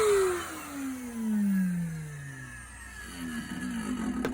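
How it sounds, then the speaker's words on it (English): A 2010 Numatic Nuvac VNP180-1 car vacuum with worn motor bearings whines down in pitch, then runs with a rough, grinding drone that picks up again near the end. "The bearings, normally there's a grinding noise."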